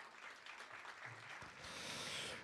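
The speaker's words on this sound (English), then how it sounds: "Would you please welcome Dale with a round of applause as he takes a seat." Audience applause at a Melbourne Fashion Festival panel welcoming a guest to the stage; a steady, fairly faint wash of clapping runs through the whole stretch.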